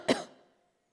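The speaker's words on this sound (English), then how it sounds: "Sorry for coughing in between" A single sharp cough bursts out near the start, loud and close, then tails off quickly into silence.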